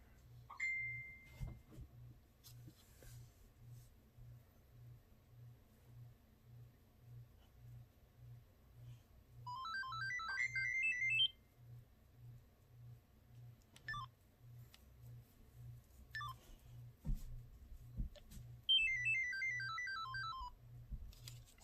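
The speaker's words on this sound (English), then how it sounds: "Here's the Motorola V180." A Motorola V180 mobile phone plays its start-up and shut-down tones: two short rising chimes of bright beeps, heard alone over a faint, steady background hum.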